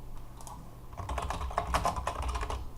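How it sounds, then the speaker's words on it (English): Rapid keystrokes on a computer keyboard, a dense run of clicks growing busier after the first second, close and fairly loud over a low steady room hum. "you type in their name"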